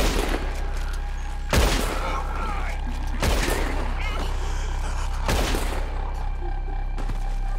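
Heavy gunshots ring out in Red Dead Redemption 2, four loud booming reports spaced a couple of seconds apart over a constant low rumble.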